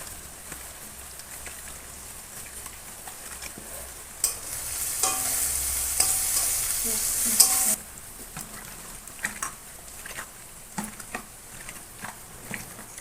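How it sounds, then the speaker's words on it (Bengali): Chicken meat being mixed by hand with oil in a home kitchen: soft, wet squelching and stirring sounds throughout, with a louder hissing burst in the middle, no talking. "তেল দিয়ে দিলাম এবার আমি ভালো করে মাংসটাকে মেখে নেবো"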